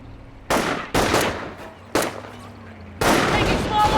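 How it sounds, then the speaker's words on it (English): Bursts of small arms fire in a Company of Heroes battle, four loud volleys of rapid rifle and machine gun shots separated by short pauses, close and sharp against a low rumbling backdrop. "Taking small arms fire here."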